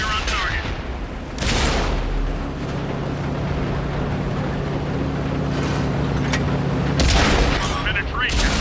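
Heavy cannon shots from an Edelweiss tank in World of Tanks on console, two loud booming blasts separated by several seconds of steady engine rumble, with a voice speaking over it.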